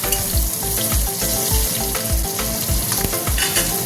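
Slit green chillies fry in hot oil with a steady, loud sizzle, while a spoon stirs them in regular, rhythmic scrapes and knocks close by.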